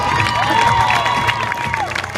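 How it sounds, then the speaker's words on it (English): A crowd cheers and applauds for rider Jesse Stubblefield on the horse Athos at a Knights of Valour event, with loud sustained cheering, whistles and clapping throughout. "how about a nice round of applause for Jesse Stubblefield?"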